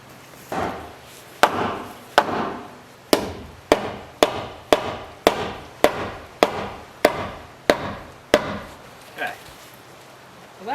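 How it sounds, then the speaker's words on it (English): A big hammer knocks wooden blocking into a deck beam with about a dozen sharp, loud blows, evenly paced with a few light taps between. "Let me get my big hammer real quick."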